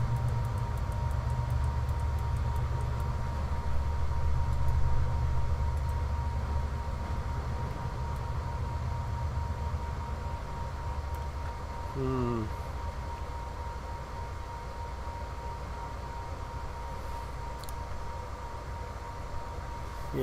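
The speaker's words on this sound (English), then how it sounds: "hear that train going by?" A train rumbles past near Route 66, a steady low roar lasting throughout with a brief horn-like tone midway, fairly loud and continuous, with a voice faintly over it.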